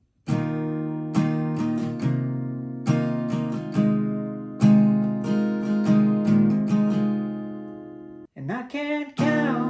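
Acoustic guitar strumming the chords of a song with a hammer-on, a series of ringing strums in a steady rhythm, close and clear, ending in a quicker flurry of notes.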